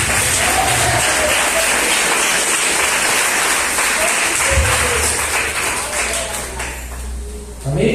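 A church congregation claps together during a worship service, loud dense applause sustained for several seconds, with voices mixed in and the clapping thinning toward the end.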